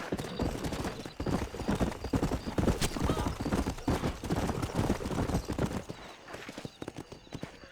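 Horse hooves clip-clop steadily and close as a rider travels at pace in the Red Dead Redemption video game, with a brief whinny and busy game sound around the dense, continuous rhythm.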